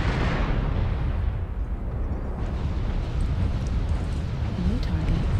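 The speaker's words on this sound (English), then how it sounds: "Warning, incoming missile." In a video game, an incoming missile strikes and explodes in a loud broadband blast, followed by a dense, rumbling roar of debris and fire that lasts several seconds.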